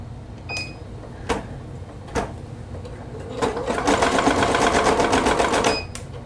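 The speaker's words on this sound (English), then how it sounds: "You stop it after a few stitches," An EverSewn Sparrow X2 embroidery and sewing machine starts with a few isolated clicks and taps, then runs a steady rapid stitching rattle for a couple of seconds before stopping; a voice speaks briefly.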